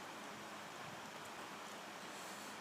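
Steady rainfall from tropical storm Rai, a dense, even hiss of drops on surfaces with no breaks, faint and constant throughout with no voices.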